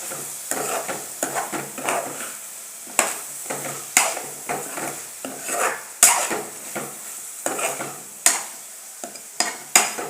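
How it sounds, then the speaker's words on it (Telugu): A spoon stirs drumstick and tomato curry in a pan, producing irregular scraping clinks over a soft background sizzle, close and moderately loud, with no talking. "మధ్య మధ్యలో తిప్పుకుంటూ ఉండాలి కర్రీని,"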